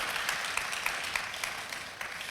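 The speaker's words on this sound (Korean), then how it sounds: "찬송을 개떡같이 하니까 박수도 개떡같이 치네" Congregation clapping at a late-night church worship service, a steady, fairly dense patter of many hands spread across the room, moderately quiet and even throughout with no voices over it.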